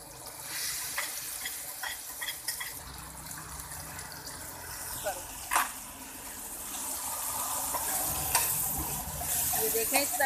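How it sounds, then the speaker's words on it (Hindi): Boiled chana dal frying in oil in a pan, a soft continuous sizzle with scraping stir strokes and occasional clinks, fairly quiet and close, with faint background voices. "ये देखें इस तरह दाल को हमने भूनना है।"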